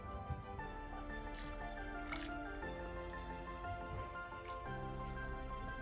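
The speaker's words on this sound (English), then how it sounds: "I am going to apply liquid fertilizers" Liquid fertilizer pours onto okra plants in a garden, a soft trickling and dripping that continues steadily, fairly quiet, with faint background tones and no speech.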